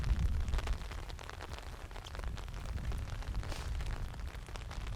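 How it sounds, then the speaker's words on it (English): A mix of rain and hail falls steadily during an outdoor training day in Bergen, a dense broadband patter with scattered sharper ticks of hailstones striking surfaces, continuous and fairly loud throughout. "There's like a mix between rain and hail"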